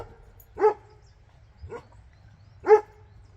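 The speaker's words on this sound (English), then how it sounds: "Maisie, don't just bark at her." Dogs give a few single barks outdoors, three spaced woofs with the middle one softer and lower, while playing with a ball.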